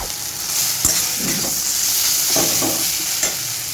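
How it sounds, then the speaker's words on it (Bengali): Ginger and garlic fry in a hot pan for egg curry, making a continuous loud sizzle with intermittent scraping and stirring knocks from a spatula. "আদা রসুনটা দিয়ে খুব ভালো করে কষিয়ে নিয়েছি।"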